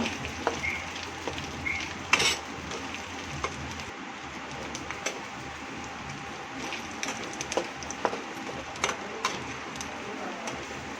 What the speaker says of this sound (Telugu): వేగిపోయిందండి చికెన్ అల్లం పేస్ట్ ఎర్రగా వేగింది